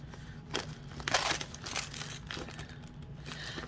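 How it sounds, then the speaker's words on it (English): A biodegradable mailer package is torn open by hand, producing close crinkling and a sharp ripping burst followed by more rustling of the paper-like material, with no speech. "this is one of them biodegradable type of when you tear it open"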